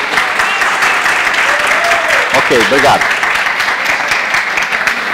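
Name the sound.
applause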